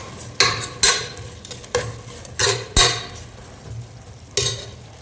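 Cloves, cumin and black pepper fry in a pan while a spoon stirs them, producing a handful of spaced metallic scrapes and knocks over a low, steady sizzle.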